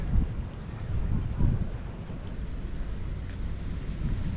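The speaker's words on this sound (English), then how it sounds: "Got a boat coming in here." A low engine rumble and water wash rise and fall outdoors at Quidi Vidi, St. John's, Newfoundland, with wind buffeting the microphone; a motorboat seems to be drawing closer.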